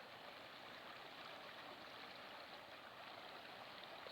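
A Scottish river burbles steadily near someone's home, a soft, even rush of running water with no break or voices.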